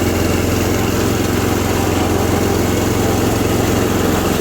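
A John Deere 210 garden tractor's Kohler K341 16 HP single-cylinder engine runs steadily at idle, a close, loud, even low throb with a mechanical rattle and no talking.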